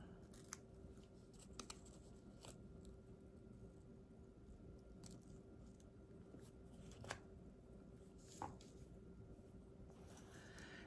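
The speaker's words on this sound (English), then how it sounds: "so it doesn't have blunt edges, I'm just gonna kinda trim it off." Scissors trim the edges of junk journal paper in a few faint, sparse snips over a steady low hum, with no talking.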